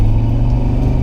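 A V8 Chevrolet S10 truck with a welded G80 locking differential, revving off-road in ruts, gives a loud, steady low engine rumble that stays close and continuous throughout, with no talk over it.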